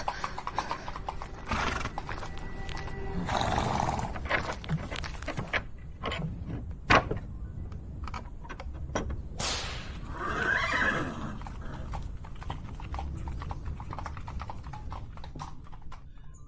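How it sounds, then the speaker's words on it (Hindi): Horse hooves clip-clop steadily on a road as a horse-drawn tanga carriage approaches, with a horse neighing partway through; the rhythmic trotting stays fairly close and continuous throughout. "हाँ, एक तांगा आता दिखाई दे रहा है।"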